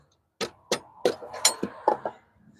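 A hammer knocks a stuck part loose, about seven sharp, close metallic strikes in an uneven rhythm, each ringing briefly before the next blow.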